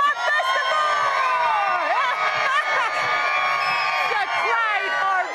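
A festival crowd at Camp Bestival's 15th birthday cheers and whoops, a sustained wash of high shouting voices from many people that stays loud throughout.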